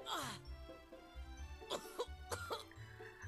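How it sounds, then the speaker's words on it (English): In the video game Riviera: The Promised Land, the character Ein coughs after being punched in the stomach, a few harsh throaty coughs and groans set over a soft game music loop. "Serene punched him in the stomach and made him cough it up"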